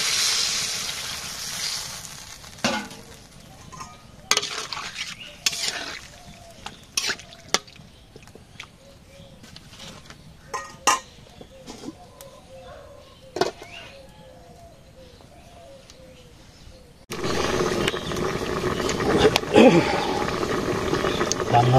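Curry cooks in a frying pan with scattered spoon clicks and scraping while pigeons coo nearby, then broth hits the hot pan and a loud, steady sizzling hiss fills the final seconds.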